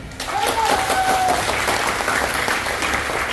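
A seminar audience claps loudly for themselves in a dense, continuous burst. A faint whistle-like tone is heard early on.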